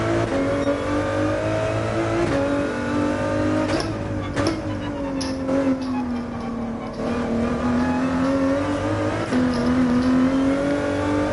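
A race car engine in a racing video game, heard from the cockpit view, drones and revs continuously, its pitch rising and falling through gear changes with a few sharp shifts, loud and close throughout.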